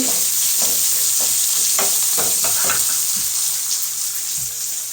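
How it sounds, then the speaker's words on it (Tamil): Onions frying in oil for a tempering, stirred in a pan: a bright continuous hiss with repeated light scraping strokes through the middle, close and fairly loud, no voices. "வெங்காயம் போட்டு நல்லா கிண்டி"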